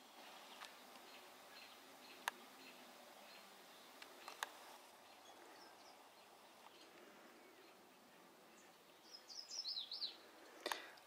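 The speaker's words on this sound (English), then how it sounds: "this is a look at the swallows" Swallows give faint, sparse chirps inside a shed where a Jeep is parked, with a brief cluster of high twittering near the end over a quiet background hum.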